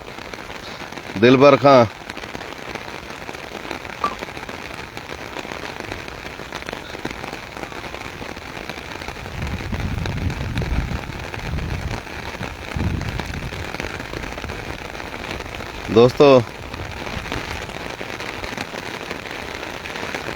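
Heavy rain falls steadily in Taunsa Sharif, a dense hiss of drops drumming on surfaces, while someone speaks briefly twice over it.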